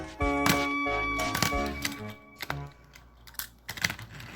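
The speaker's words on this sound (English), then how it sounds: "if you think this tender is made out of metal, you're wrong. It's plastic. You can hear it." Someone taps and knocks on the plastic tender of a Trackmaster push-along toy engine, giving a series of light, hollow clicks and thunks at close range, irregularly spaced, with faint tonal hum in the background.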